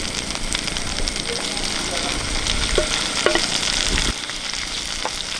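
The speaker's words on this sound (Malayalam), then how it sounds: "ഇതും കൂടി ഇട്ട് നമുക്കൊന്ന് വഴറ്റാം" Chopped tomatoes sautéed in a pan for Kerala-style mackerel curry, loud continuous sizzle with spatula scrapes and stirring clatter running throughout, close and busy, with a short knock near the end.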